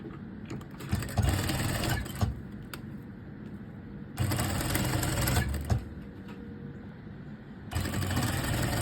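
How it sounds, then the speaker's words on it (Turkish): A sewing machine runs in three separate bursts of rapid, rattling stitching, each lasting a few seconds with brief quiet gaps between, as the front and back panels of a strapless dress are joined along the side seams. "ön bedenle arka bedenle yanlardan birleştiriyorum"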